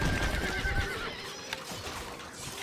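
A horse neighs and whinnies loudly in the Stronghold Crusader video game, a clear drawn-out call with some clip-clop of hooves, standing alone without talk.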